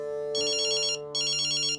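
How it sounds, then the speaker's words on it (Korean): A mobile phone ringing with a bright, electronic ringtone, two long rings separated by a brief pause, loud and close over a steady low hum. "전화벨이 울리는 겁니다"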